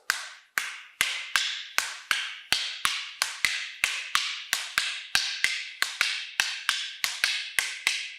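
Pairs of wooden fighting sticks struck together in a steady, evenly spaced beat, about two sharp taps per second, clear and close with no talking.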